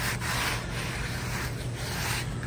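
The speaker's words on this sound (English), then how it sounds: "It's funny how that carbon won't wipe off." Steady rubbing of a rag wiping greasy carbon dust off a worn starter generator part, a continuous close scuffing texture with no pauses and no talk.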